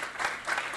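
Audience applause at a literacy tutor recognition and awards ceremony, a brief, fairly quiet patter of clapping swelling in two small waves.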